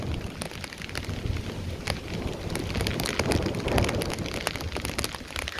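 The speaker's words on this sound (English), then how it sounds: "It's becoming really windy and it's starting to really band out here." Strong Hurricane Ian wind roars through College Park in Orlando, Florida, a loud, dense rush with gusting surges and blowing rain buffeting close to the microphone, with no talk.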